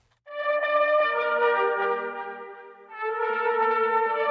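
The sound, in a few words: processed string section, crisp and clear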